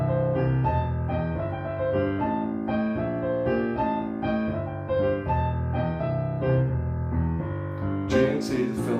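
Blues piano playing a right-hand riff with embellishments over a steady left-hand bass line, continuous and full, ending with a brief flourish.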